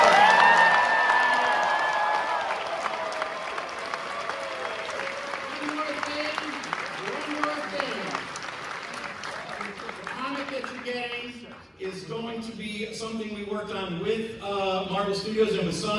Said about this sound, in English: If we could get a huge round of applause for all the special guests.